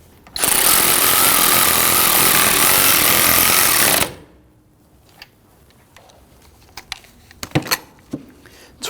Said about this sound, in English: Tighten down the sway bar end length. Torque it down to 45 foot-pounds.